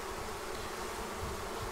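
Honeybee swarm being installed into a hive without opening it, a close, steady dense buzz with no pauses and no voices over it.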